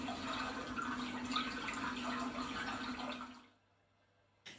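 Gentle water sound from a floating lilies sensory app: a soft, steady wash of trickling and splashing that plays quietly for a few seconds and then fades away almost to silence.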